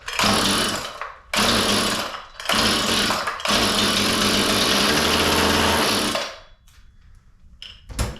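A Maruyama clipper's small engine sputters and pops in several bursts as the starter cord is pulled, with loud close-up rough firing runs separated by brief pauses and a few fading coughs at the end.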